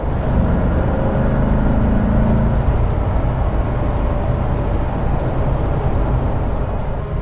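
A 1990 Corvette ZR1 with under 2,500 original miles cruises up a highway, its engine a steady low drone blended with road and wind roar, loud and continuous throughout with no talking.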